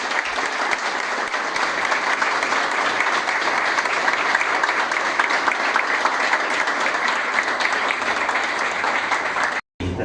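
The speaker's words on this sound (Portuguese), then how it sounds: "termino pedindo uma salva de palmas para os bombeiros voluntários da Ilha" Steady, dense audience applause for the Ilha volunteer firefighters at a Fundação Cardoso de Moura ceremony, loud and sustained throughout with a brief drop near the end.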